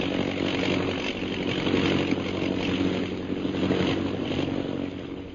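A steady droning airplane engine from an old time radio jungle adventure drama runs continuously at moderate level, with a sustained hum and no voices.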